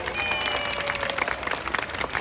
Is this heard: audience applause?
yes